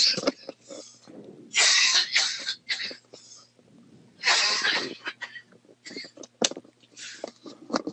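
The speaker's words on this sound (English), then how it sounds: "Hold on, I have to cough." Someone coughs repeatedly in harsh bursts, close by, with breathy gasps and throat sounds between the fits.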